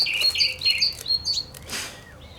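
Birds chirp outdoors on a spring day, repeated high bright tweets in a quick rhythmic series at moderate distance over steady background noise, followed by a louder rustling burst and a faint call.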